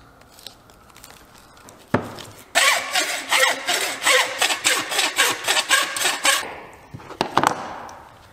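A hand saw works through a deer's rear shank bone, one sharp knock and then a run of rapid, rhythmic rasping strokes close by, ending with a few scattered clacks; no one speaks.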